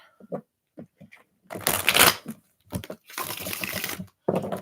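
Tarot cards are shuffled in several quick riffling bursts, close and crisp, separated by brief gaps with a few soft taps and handling noises.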